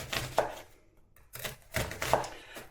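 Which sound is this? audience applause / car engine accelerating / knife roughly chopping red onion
knife roughly chopping red onion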